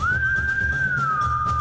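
A person whistles a single sustained tone that rises slightly and then glides gently downward, clear and close, alone over a low background hum.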